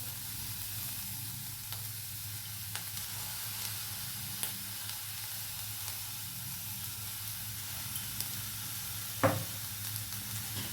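A salted farsan snack mixture is stirred in a hot pan, with a steady low sizzle and occasional faint scrapes and taps of the spoon, quiet and continuous throughout.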